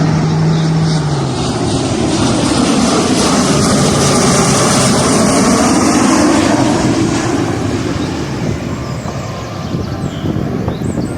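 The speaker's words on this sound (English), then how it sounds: "So this is the Lockheed Hercules" A Lockheed Hercules with four open-head propeller engines drones loudly and steadily with a broad roar, building slightly and then easing off as it passes.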